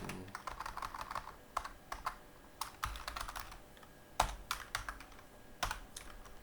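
Close, crisp keyboard typing while entering C# ASP.NET code, irregular clusters of clicky keystrokes with occasional heavier thumps, no talking.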